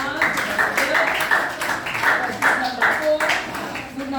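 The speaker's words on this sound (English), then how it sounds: "Let's give this group a round of applause." A secondary-school English class claps for a student group after its presentation. Scattered hand claps continue under ongoing classroom chatter.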